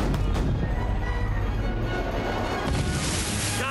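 Cannon fire in an animated pirate film, a dense rumbling barrage of booms and crashes that is loud throughout and swells again near the end.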